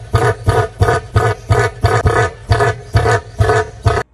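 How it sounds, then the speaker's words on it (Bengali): Deep, booming roar-like calls of a cassowary, a large flightless bird, repeated about eight times in a steady pulsing rhythm, loud and close with no voices. "পৃথিবীর অন্যতম হিংস্র এই পাখির ডাক শুনলে মনে হবে"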